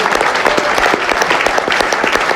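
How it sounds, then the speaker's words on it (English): Loud, close applause at an evening event with Liverpool and England football legend Robbie Fowler in Aberdeen, individual claps audible as sharp rhythmic hits within the crowd. "What about a round of applause for that"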